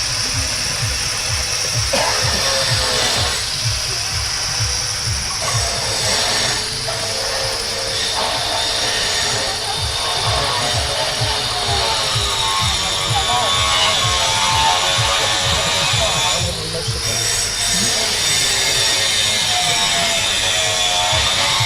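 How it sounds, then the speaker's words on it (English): An angle grinder bites into hard, tough steel from an elevator spring, a steady loud mechanical whine with a pulsing low rattle that runs almost unbroken, briefly dipping a few times, with faint talk underneath. "this makes really hard, tough steel, which makes interesting things when you hit it with the grinder"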